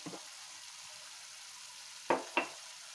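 Masala for a paneer kofta gravy fries in oil with a steady soft sizzle, broken by two brief sharp scrapes of stirring near the end.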